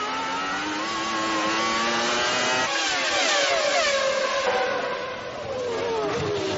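Formula 1 racing engines from the 1996 season, with Schumacher's Ferrari among them: a high, steady screaming whine with shifting pitch as cars pass, loud and continuous.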